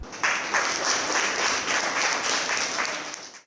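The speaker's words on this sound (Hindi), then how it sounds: "तो आपके लिए बहुत बहुत ज़ोर से एक ताली।" An audience claps loudly for a performer in traditional tribal costume and jewellery, a full burst of applause that swells quickly and holds steady for about three seconds before cutting off, with no voices over it.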